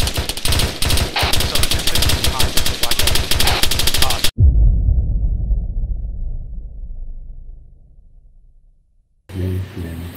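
Sustained automatic gunfire in ARMA 3, rapid bursts loud and close, cutting off abruptly and giving way to a fading low rumble before another loud burst at the end.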